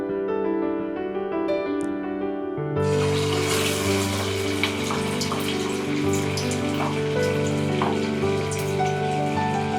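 Poha vada frying in hot oil: a loud, dense, steady sizzle that continues to the end, with a tonal musical passage before it.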